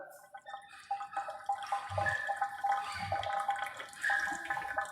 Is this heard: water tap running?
yes